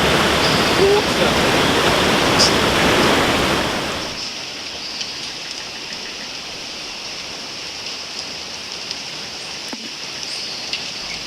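Rushing water roars loudly in the Amazon rainforest for about four seconds, then drops to a much quieter wet ambience with faint scattered drips and ticks.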